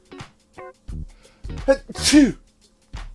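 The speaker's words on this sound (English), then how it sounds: "I'm gonna sneeze." After a few short bits of speech, a person lets out one loud sneeze, then speaks briefly again.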